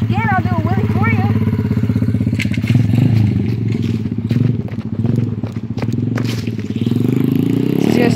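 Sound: SSR125 pit bike engine during run

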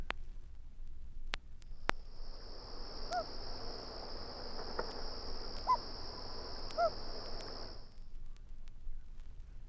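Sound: loon hoot call from vinyl recording

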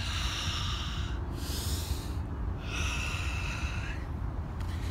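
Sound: two breaths during Tibetan rites exercise

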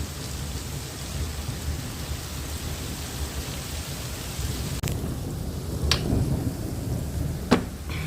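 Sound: hail falling in a storm

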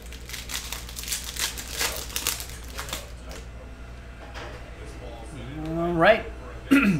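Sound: ripping open a Prizm NBA trading card pack

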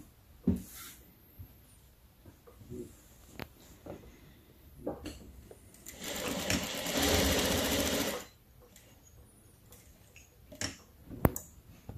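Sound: sewing machine stitching a fabric face mask with elastic

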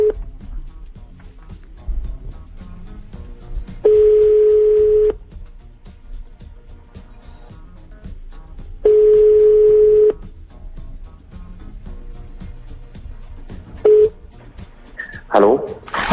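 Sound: telephone dialing a radio show caller

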